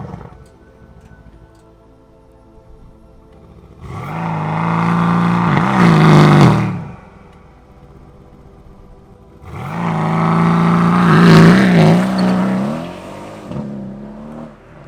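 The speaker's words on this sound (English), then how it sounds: "right now I'm going to show you guys race mode or launch control on the C63 S Cabriolet" The engine of a 2017 Mercedes-AMG C63 S Cabriolet in race mode with launch control: two loud revving bursts rise and hold for a few seconds, then drop back to a low, burbling idle between them, close and with no talk.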